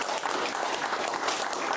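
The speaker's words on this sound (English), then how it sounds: "Big round of applause." Studio audience applause in a television talk-show studio, a dense, steady wash of clapping that holds at an even level from start to finish with no voices over it.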